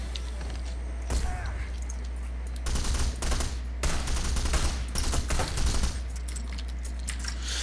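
Gunfire in a Hitman video game: several clustered bursts of rapid shots over a steady low droning background, loud and close, with quieter stretches of ambience between the volleys.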